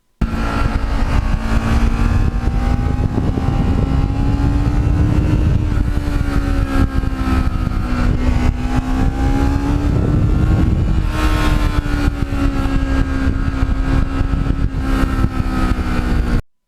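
A restored Kawasaki Ninja rides along with a continuous, close engine drone whose pitch rises and falls gently as the throttle changes, and the roar stops abruptly at the end.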